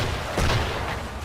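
Cannon fire from a gunboat during a naval battle in the Assassin's Creed 3 video game: a single heavy boom over a constant rumble of sea and wind, fairly loud and close.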